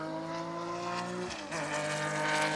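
A Porsche Carrera Cup race car drifts out of the S-bends with tyres squealing over a droning engine that shifts pitch midway, heard from a distance and steady in volume.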